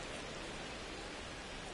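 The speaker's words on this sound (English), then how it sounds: "It's raining out here." Steady, dense rain falls in the MLB The Show baseball video game, a continuous even hiss with no breaks and no talk over it.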